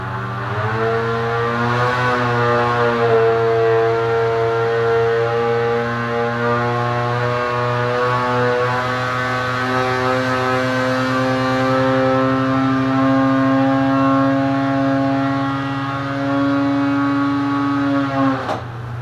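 A Polaris Matryx 850 snowmobile with a Bikeman Stage 1 kit, BMP Y-pipe and torque link flash drones at a steady high pitch through a long test run, loud and sustained before dropping off at the very end.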